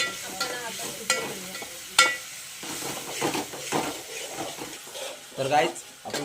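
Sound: onion, whole spices and garlic paste frying in a pan

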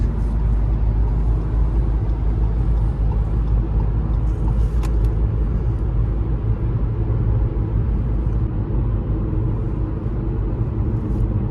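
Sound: Fiat Egea Cross car driving on adaptive cruise control

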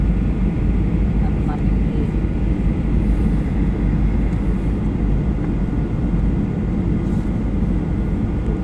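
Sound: Garuda Boeing 737 airplane landing at Soekarno-Hatta airport

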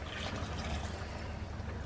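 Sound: red wine poured into the onion gravy pan

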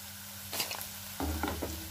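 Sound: frying vegetables in a pan

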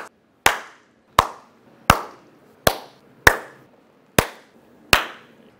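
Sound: one big loud clap

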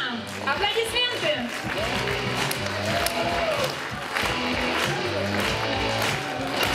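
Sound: audience applause for award winners

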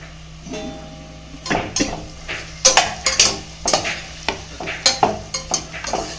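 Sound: onions being sautéed in a pot

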